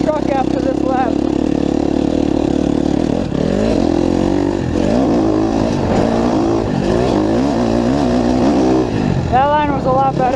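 A 2019 KTM 250SXF dirt bike screams through a lap, its engine note rising and falling with repeated revs and gear changes, loud and close. A rider talks over it throughout.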